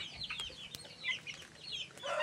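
Young grower chicks, still too small to be called full chickens, cluck and peep in a steady run of short high calls at close range, with no talk over them.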